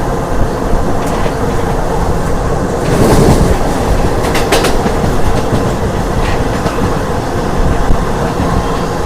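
A DEMU passenger train runs at speed between Nandyal and Tirupati, filling the space with a loud, steady rumble and rhythmic wheel clatter on the rails, plus a few brief metallic squeals near the middle.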